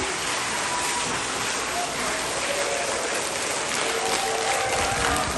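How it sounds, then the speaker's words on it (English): A school audience applauds Class 3 Maths Olympiad students, a dense hissing wash of many hands clapping steadily throughout, with faint voices in the background. "A very huge round of applause for all of them once again."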